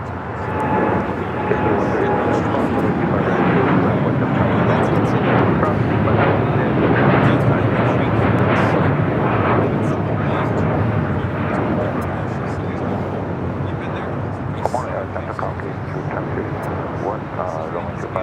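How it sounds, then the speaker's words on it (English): An American Airlines Boeing 787 Dreamliner, flight 27 bound for Tokyo Haneda, takes off at LAX with a loud, steady broadband engine roar that swells and holds for the whole stretch, a faint whine running through it. "That was an American Dreamliner heading to Tokyo Haneda, flight 27"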